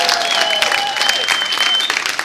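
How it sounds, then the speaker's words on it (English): Comedy club audience applauding for a headlining comic, a steady burst of dense clapping from a crowd, close and continuous with a few whistles over it. "Clap for my kids"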